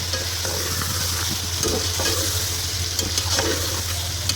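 Tomato and ginger-garlic paste frying for Kabuli pulao, a steady close sizzle with scraping stirring strokes throughout, no talk.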